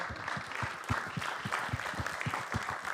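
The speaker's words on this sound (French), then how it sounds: "François Gelbert, Claire Velfgott, bravo à eux, on peut les applaudir" A crowd applauding at an awards ceremony, many hands clapping in a dense, steady patter from a moderate distance, without any talking.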